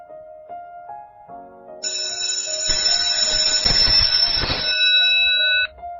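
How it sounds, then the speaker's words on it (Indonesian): A school bell rings out in a long, loud, sustained electric tone that swells in after a softer chime and holds for several seconds before cutting off abruptly. "Bel sekolah berbunyi, menandakan bahwa pelajaran hari ini sudah selesai."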